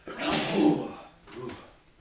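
A single short sneeze bursts out indoors, fairly soft and close, followed by a quieter breathy sound a moment later.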